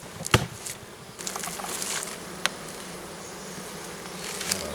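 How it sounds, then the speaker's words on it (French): Faint buzzing of honeybees flying around a mountain apiary hive nearby, with a few closer passes and light clicks over a quiet outdoor background. "il y a quand même des abeilles"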